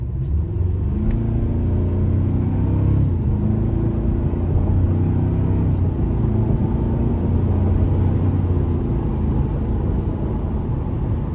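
A 2025 Toyota Tacoma TRD Off-Road with the i-Force Max powertrain accelerates in sport mode, its engine a loud, continuous low rumble that rises steadily over several seconds with no voices over it.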